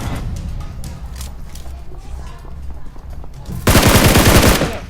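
Automatic gunfire from the PUBG Mobile shooter game crackles through a noisy in-game soundscape, then swells into a loud, dense burst of rapid shots near the end.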